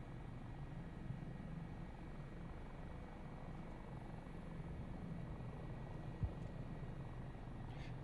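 A Dauphin helicopter flying in a flight simulator game gives a steady, quiet rotor and engine drone that holds evenly throughout, with one brief soft thump near the end.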